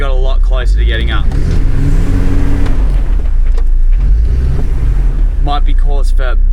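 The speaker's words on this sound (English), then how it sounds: "Now all 4 wheels are forced to spin at the same time." A 4WD with both diff locks engaged revs hard on a steep climb while all four wheels spin. The engine roars loud and close throughout, and someone talks over it at the start and end.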